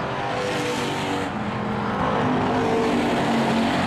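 Race cars roar around a short oval track in a fifth-place battle, a dense, steady wall of engine noise with layered revving from several cars close by and continuing throughout.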